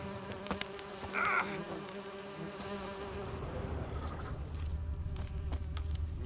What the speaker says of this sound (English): A swarm of bees has attacked you.